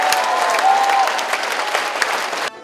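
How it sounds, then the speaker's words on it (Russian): A concert hall audience gives an orchestra a standing ovation, loud dense clapping that holds steady for over two seconds before cutting off abruptly. "И как результат – овации стоя."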